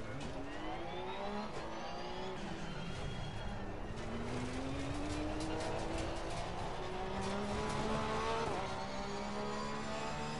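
A race car in Assetto Corsa Competizione laps the Zolder circuit, its engine loud and close as it revs up through the gears and drops back, with rising and falling pitch, some tire noise and no talking.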